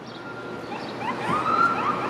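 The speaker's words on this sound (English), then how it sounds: "Oh, I see an ambulance responding." An ambulance siren wails from a distance on Wellington Street in downtown Toronto. It rises and sweeps over steady city traffic noise and grows slightly louder toward the end.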